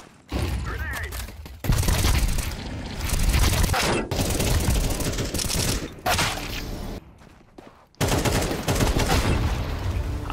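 AK rifle fire in Counter-Strike 2, loud bursts of rapid automatic shots in several runs separated by brief pauses, with game sounds between them.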